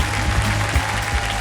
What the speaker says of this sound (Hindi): जोरदार तालियां बच्चा इनके लिए